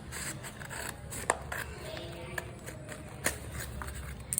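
Scissors snip through folded craft paper near the crease, giving a few sharp, quiet cuts spaced out over a soft background of rustling paper, close by and without speech.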